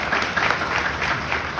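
Audience applause at a graduation ceremony: a short, continuous wash of clapping from a crowd at moderate loudness, steady throughout, with no voices over it.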